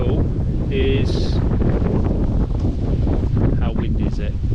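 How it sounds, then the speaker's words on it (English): Strong wind buffets the microphone outdoors by a koi pond, a loud continuous roaring rumble with a few faint background tones. "how windy is it? And I'm sure this is making a right racket on the screen."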